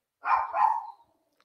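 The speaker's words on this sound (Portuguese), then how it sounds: "tem um cachorro passeando na rua." A single dog bark on a street, fairly close and clear, with a short two-part yelp and quiet surroundings.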